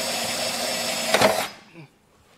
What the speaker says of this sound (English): I have a 1 1/8-inch hole saw, and this should make a nice hole for us.